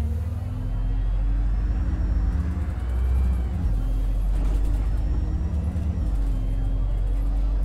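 A bus engine in the game OMSI 2 rumbles steadily at close range, with a low drone and a brief hiss partway through. A voice talks over it.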